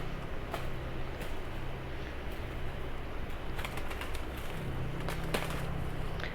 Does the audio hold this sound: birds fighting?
yes